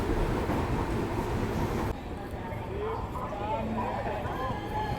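The Hirakund Express rumbles into Panipat railway station in Haryana, a loud rolling clatter of wheels and carriages that eases into quieter station ambience with faint squeals and voices in the background.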